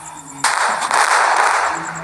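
A long-range bomb goes off with a sudden loud blast that settles into a sustained roaring, crackling rumble for over a second, with no talk over it.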